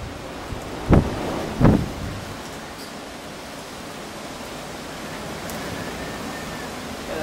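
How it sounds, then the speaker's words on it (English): Hurricane Earl's wind and rain rush outdoors as a constant broadband roar, with two heavy thumps of wind buffeting the microphone early on. "The wind is kind of coming from the south-east."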